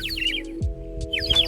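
Birds chirp outdoors on a farm among trees, with repeated quick bright tweets in bursts at the start and end over a low steady hum and some low thumping.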